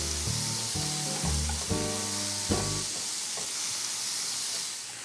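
Bacon fries in a pan, its fat rendering out with a continuous hissing sizzle and faint popping, close up, over background music.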